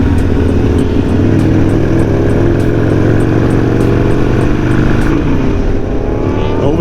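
Motorcycles ride ahead on a road, a steady loud engine drone with rising revs and passing vehicle noise throughout, close and continuous.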